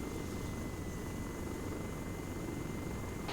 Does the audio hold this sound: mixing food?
no